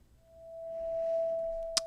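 Single Native Instruments Massive synth tone with long attack and release, a pure steady note that swells in slowly, holds, then ends with a small click, heard alone and fairly quiet.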